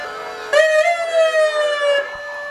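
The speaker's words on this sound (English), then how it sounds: "And then, of course, the ambulance and EMS." An ambulance siren in a parade starts abruptly and wails in a steady high tone with wavering pitch, loud and close, then cuts off.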